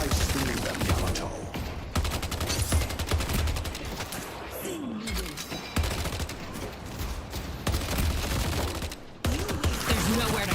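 Video game gunfire rattles in dense, rapid bursts of shots, loud and close with brief pauses between volleys, with a voice speaking over parts of it.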